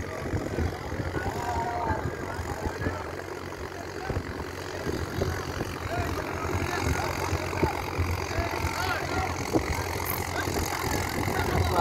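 A Mahindra 575 tractor runs through deep floodwater after heavy rain in Andhra Pradesh, its engine a steady, fairly loud drone mixed with continuous churning and splashing water throughout.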